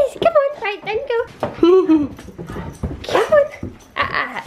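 A dog whimpers and yips in short excited bursts, with a person's voice talking alongside close by.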